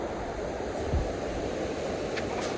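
A river rushes and gurgles below snowy mountains near Almaty, Kazakhstan, a dense, steady wash of water noise, close and unbroken, with no voices.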